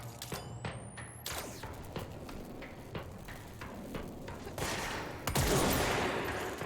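Rapid bursts of gunfire ring out in the video game Control, a series of sharp shots scattered across several seconds and building into a denser volley near the end, with no talking.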